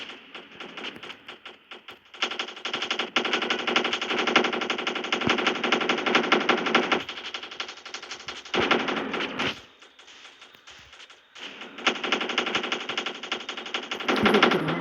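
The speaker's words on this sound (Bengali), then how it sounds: "মেশিন গান ভাই" Long bursts of rapid automatic machine-gun fire in the video game Vegas Crime Simulator, dense and loud, broken by short pauses, with a brief quieter gap before the firing resumes.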